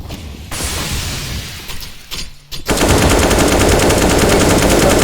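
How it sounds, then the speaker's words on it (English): SMG gunfire rattles in a Counter-Strike match, with a rapid burst, a brief pause, then sustained loud automatic fire and crashing impacts. "Boomich is going to be cheating over with yet another SMG"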